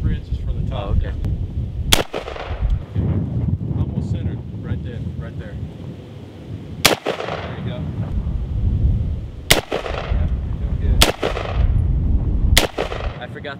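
Gunshots fired at homemade bullet resistant armor outdoors, five sharp, loud cracks spaced a few seconds apart over wind noise and a steady low rumble, with people talking between shots.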